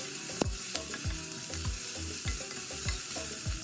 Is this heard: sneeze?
no